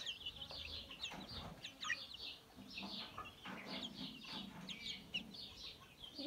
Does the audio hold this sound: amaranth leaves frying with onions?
no